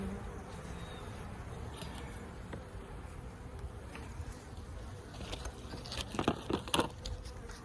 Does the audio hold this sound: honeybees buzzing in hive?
yes